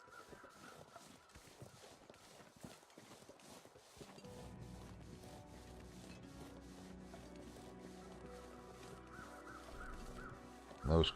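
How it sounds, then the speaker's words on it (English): Crows cawing over wintry wilderness in the survival game The Long Dark, a run of repeated calls in the first few seconds, then a steadier ambient bed with crunching footsteps or rubbing toward the end. "Those crows over there are at the dead guy in the trees over the center of screen"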